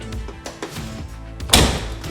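A RAM ProMaster City van door shuts with one solid thunk, preceded by a few lighter clicks and taps of the latch mechanism, which is not latching fully.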